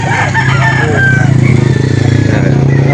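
A rooster crows loudly and close by at the Lipa livestock auction market, one drawn-out call over a steady low rumble of engines and crowd background.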